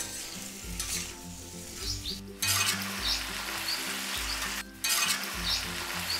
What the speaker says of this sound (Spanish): vamos a dejarlo que se empiece a freír también